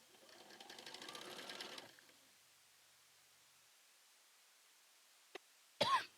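A sewing machine stitches a quilt block in a short, steady whirring run of about two seconds, followed by quiet and then a brief cough and throat clearing near the end.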